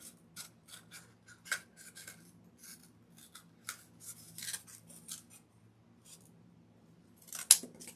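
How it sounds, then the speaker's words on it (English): Scissors snipping through paper towel and mesh rolls, a string of short crisp cuts at close range with brief pauses between them, no talking. "I'll cut them down on for our arms."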